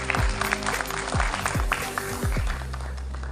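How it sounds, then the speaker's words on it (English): An audience applauds at an institutional event. Scattered clapping runs throughout, partly masked by low booming thumps and a steady electrical hum. "Give your institution a huge applause."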